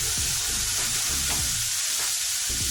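Fish fries in hot oil with a loud, steady, crackling sizzle and small popping bursts throughout, close up and with no voices.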